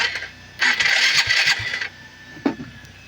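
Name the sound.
Suzuki Skydrive 135 motorcycle engine starting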